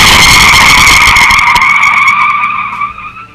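A car braking hard as its tires skid, giving a loud, sustained screech that holds steady, then tapers off near the end.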